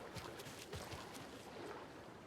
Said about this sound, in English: Yep, there's someone moving in the water.